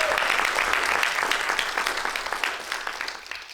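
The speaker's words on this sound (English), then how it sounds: "Please give him a round of applause." An audience applauds a master of ceremonies at a speaking event, with steady crowd clapping that stays dense and continuous before tapering slightly at the end, no talk over it.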